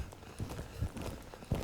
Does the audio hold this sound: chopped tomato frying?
no